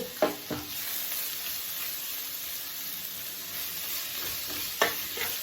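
Garlic sautés in hot oil in a pan, a soft steady sizzle broken by a few sharp scrapes of a spoon stirring at the start and again near the end; close, no talking.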